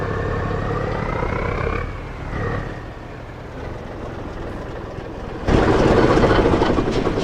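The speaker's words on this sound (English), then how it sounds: "God damn, that engine sound is horribly bad." Vehicle engine in Farming Simulator 25, a steady droning motor hum with a rising whine that drops away around two seconds, then a louder, rougher surge of engine noise near the end, no talking.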